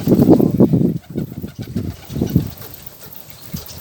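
Pigeons cooing in a large, crowded flock of over two hundred birds kept by a keeper, with low throaty coos in close, uneven bursts and no speech over them.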